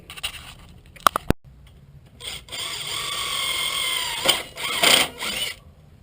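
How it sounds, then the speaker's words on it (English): A power drill boring a hole into the frame of a Honda 400EX ATV during a GPS install, with a few sharp clicks and taps first, then sustained whirring bursts of drilling that rise and fall, separated by short pauses. "So I'm going to drill that hole and pop a hole right in there"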